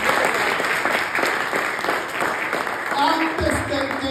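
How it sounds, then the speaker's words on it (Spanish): Church congregation claps loudly and steadily, a dense continuous roar of applause that fades near the end as voices emerge. "Denle palmas fuertes a Jesucristo."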